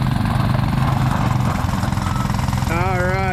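A Honda 90 four wheeler and a Coleman 100 go kart run their small engines hard against each other in an outdoor tug of war, a loud, buzzing, revving drone throughout with a brief high whistle near the end.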